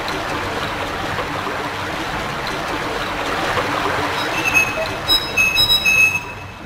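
Water rushing and flowing in the Silent Hill game on PlayStation, a steady broad wash that builds toward the end with faint high metallic tones over it, no voices.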